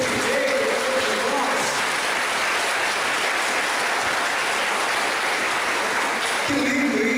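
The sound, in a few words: audience applause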